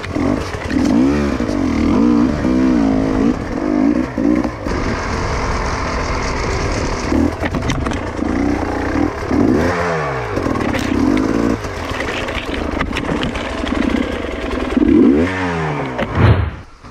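An enduro motorcycle engine revs repeatedly, rising and falling in pitch with rough clattering bursts, close by and loud throughout.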